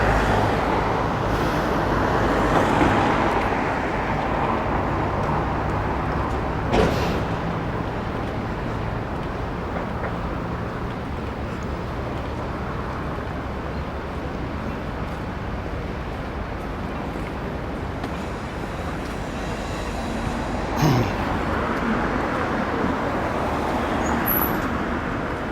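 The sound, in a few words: road traffic passing on a London street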